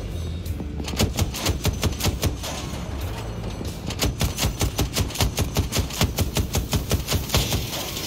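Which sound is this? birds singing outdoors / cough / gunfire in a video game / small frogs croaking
gunfire in a video game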